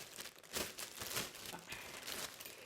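Plastic bags crinkle and rustle close up in repeated bursts of sharp, crackling handling, fairly quiet overall, with no speech.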